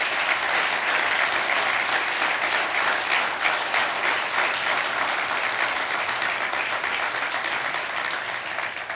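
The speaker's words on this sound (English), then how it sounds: "let's give them a round of applause." A crowd at a State of the City address breaks into loud, sustained applause, steady clapping that carries on throughout and tapers slightly toward the end.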